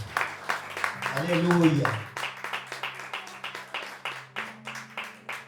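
Church congregation clapping in steady rhythmic beats after a sung or shouted voice at the start, with a low sustained tone underneath and the clapping continuing alone toward the end.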